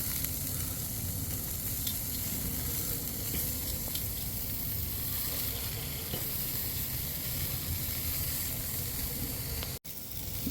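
Lamb chops sizzle loudly on a Weber kettle grill during a flare-up, a dense, steady hiss with faint pops that runs nearly unbroken before a brief cut near the end.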